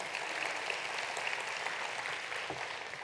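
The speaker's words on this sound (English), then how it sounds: "Yeah, you can clap for that." An audience claps in steady, dense applause at a talk, a continuous wash of hand claps heard from a moderate distance that fades slightly at the end.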